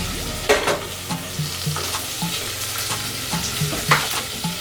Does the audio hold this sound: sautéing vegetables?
yes